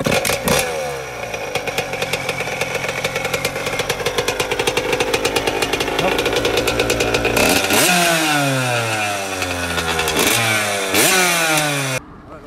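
A motocross bike being tried out before purchase starts, then idles with a rapid, rattling two-stroke beat, close and loud. It follows with several sharp revs that rise and fall before cutting off.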